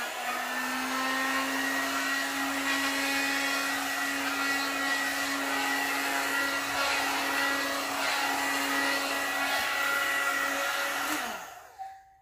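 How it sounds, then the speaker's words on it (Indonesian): A combined comb and hair dryer blow-drying hair gives a steady, close motor whir with a constant whine for about eleven seconds before it switches off and winds down. "aku pakai hair dryernya yang kayak gini. Jadi ini sisir sekaligus hair dryer."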